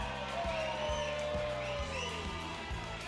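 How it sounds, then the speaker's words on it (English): A hockey arena crowd roars steadily after a goal in a finals game, with a broad, sustained wash of cheering and a few whoops rising through it for the whole stretch. "Listen to that crowd."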